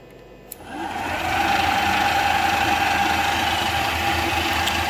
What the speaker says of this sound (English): hit the start button and the spindle will turn on